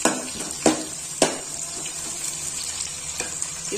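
Onions frying in a pan for uggani give a soft steady sizzle, broken by a few sharp clinks of a utensil against the pan near the start and one later, with no talking.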